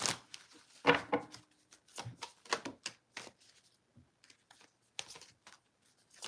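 Tarot cards shuffled and drawn by hand, close-up with a series of crisp riffling bursts and soft slaps, irregular and separated by short quiet gaps.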